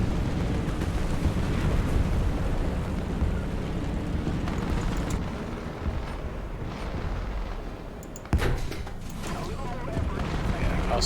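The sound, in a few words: rocket explosion in the video game War Thunder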